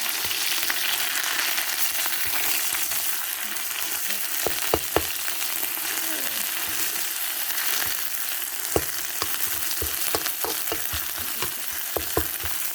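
Chili peppers fry in hot oil, a dense continuous sizzle with scattered sharp pops and clicks from a spatula now and then.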